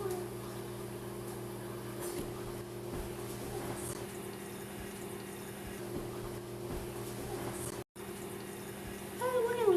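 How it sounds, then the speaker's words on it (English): Warm water runs from a sink tap into a cup, a steady close rush over a low hum that cuts out for an instant near the end before swelling louder. "The water's coming on. There's the water."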